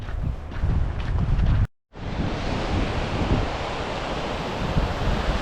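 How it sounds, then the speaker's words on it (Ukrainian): North Sea waves wash continuously onto the shore at Farsund, Norway, a broad steady roar mixed with wind buffeting the microphone, briefly cut out after a couple of seconds. "Уже чути, як море шумить."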